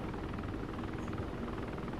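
A V-22 Osprey tiltrotor aircraft in a video game gives off a steady, loud rotor and engine drone that fills the whole stretch without letup, with no voices over it.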